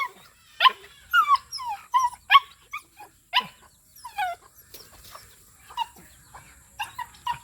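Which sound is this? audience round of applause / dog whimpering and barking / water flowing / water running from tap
dog whimpering and barking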